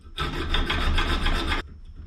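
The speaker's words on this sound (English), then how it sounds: "cut the back off this little plate that I've now welded on" A hand tool rasps rapidly back and forth across a small welded metal plate on a worn stepper quadrant, about one and a half seconds of loud, close, even strokes, then it stops.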